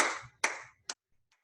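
Hand claps from bhangra luddi dance, with two sharp close claps followed by a lighter third and a faint fourth, all in a quick rhythm with no other sound.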